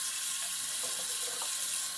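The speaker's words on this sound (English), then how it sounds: "I'm going to go ahead and I'm going to rinse the brush out with cold water" Cold water running from a tap to rinse a shaving brush, a steady close hiss of flowing water with slight splashing changes, no talking.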